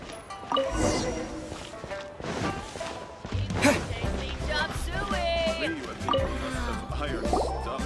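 Water being collected in the Genshin Impact video game, heard as drips and liquid pouring and splashing amid game music and effects, steady and fairly loud throughout.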